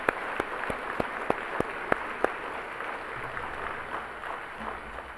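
Applause at an annual company dinner, a moderate round of clapping from the audience with a few sharp individual claps standing out early before it settles into a softer, even patter.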